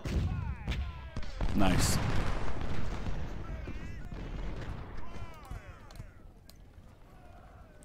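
Musket volleys and artillery fire in the Civil War strategy game Ultimate General: sharp cracks and a heavy burst of rolling gunfire that fade to scattered reports, with someone talking over it.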